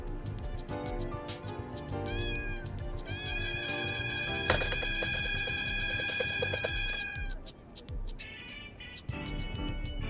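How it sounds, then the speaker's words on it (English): A cat meows in the video game Vacant Sky: Contention, rising harmonic calls over layered game music and effects, moderately loud throughout. "Cat."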